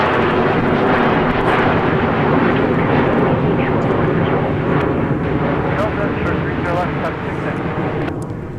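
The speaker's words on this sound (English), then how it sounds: "With these cool temperatures and the performance, these corporate aircraft are able to really get up and out of here." A corporate jet takes off from runway 30 left at Minneapolis–St. Paul Airport in cool weather, a loud, steady broadband engine roar that stays strong throughout and eases only slightly near the end.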